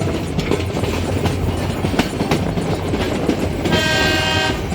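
A train rumbles past close by near Satadhar, a heavy continuous roar with rhythmic wheel clatter and a horn blast sounding near the end, loud throughout with no talking.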